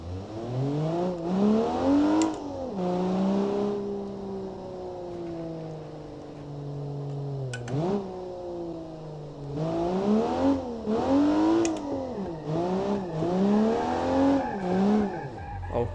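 BMW car engine in BeamNG, droning and revving through a roundabout with rising and falling pitch as it accelerates and lifts, steady and close, with brief sharp bursts and no talk.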